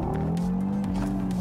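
Audi RS3 accelerating hard with tires squealing: a close, strained engine tone rises under a sharp, continuous screech of rubber for a brief burst.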